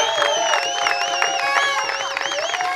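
A church congregation acclaiming and cheering during a French-language service, a loud continuous mass of voices with high ululating whoops and rhythmic clapping, close and sustained throughout.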